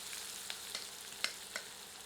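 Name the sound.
chopped onions frying in oil over a medium flame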